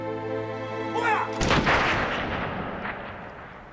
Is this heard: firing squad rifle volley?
yes